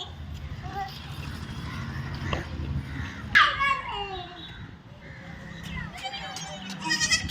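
A young goat kid bleats amid a noisy outdoor scene, its sharp cries rising above constant background chatter, with children's and adults' voices talking and calling throughout.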